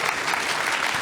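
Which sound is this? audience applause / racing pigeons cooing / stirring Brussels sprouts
audience applause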